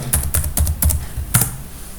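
Several close, crisp clicks on a computer keyboard land in quick succession, then a firmer final keystroke after a short pause, all heard without talking.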